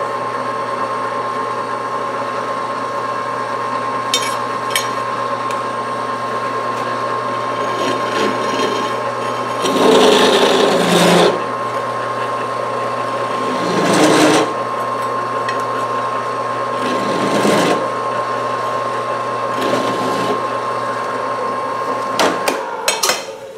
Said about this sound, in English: 2 holes, deburred, chamfered a little bit.